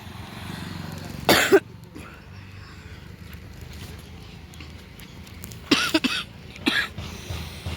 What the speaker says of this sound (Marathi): खोकला काही सुधरूनच देत नाही